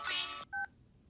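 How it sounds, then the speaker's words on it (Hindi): A phone sounds in a comedy film scene: a bright electronic burst, then a short two-tone beep, close and clear, with no talking over it. "स्वीटी, इस वक्त किसका फोन आ गया?"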